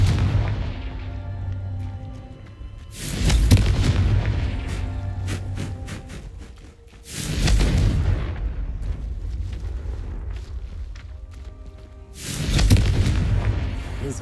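Confringo fire-blast spells cast in Hogwarts Legacy, three loud booming blasts spaced a few seconds apart, each with a rumbling tail over a steady game ambience.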